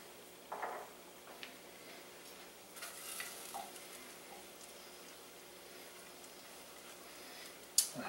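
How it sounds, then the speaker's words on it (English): Chopped garlic sautés in butter with a faint, steady sizzle, broken by a few soft stirring clicks and one sharper tap at the end. "I just want to get this garlic really kind of softened and fragrant."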